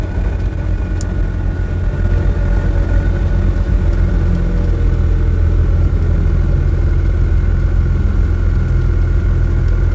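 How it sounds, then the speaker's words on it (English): A steady, loud mid-pitched engine drone from an Invacar revving hard in first gear up a steep hill, heard close with no talking. "I can hear the engine revs are still up"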